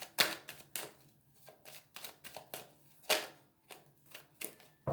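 A deck of tarot cards being shuffled and cut by hand, a close, quiet run of crisp slaps and riffles in irregular bursts, with soft pauses between them and no voice.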